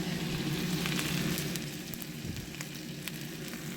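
A frozen hamburger patty fries in a pan over medium heat with a steady, close sizzle and crackle, and no talking.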